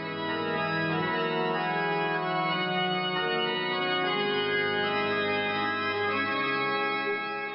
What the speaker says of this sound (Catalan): És el so de l'orgue parroquial.